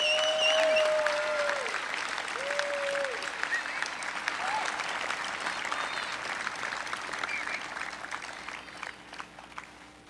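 Audience applause at a university honors convocation for a 2012 Wolfson Scholar, a steady patter of many hands in a large hall with a few brief tonal sounds over it early on, gradually thinning.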